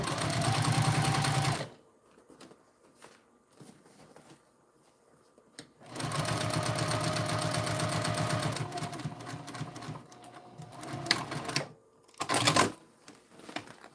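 A home sewing machine stitches straight down the long edge of a project in bursts, loud and close, with two long runs broken by pauses and quieter handling clatter.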